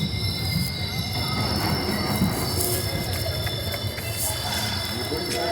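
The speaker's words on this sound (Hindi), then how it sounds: "आठ मिनट की देरी से हमारी ट्रेन पहुंची है बिरूर जंक्शन।" The Shirdi Mysuru Express pulls into Birur junction in India, its wheels screeching in a long, steady metallic squeal over the continuous rumble of the rail cars.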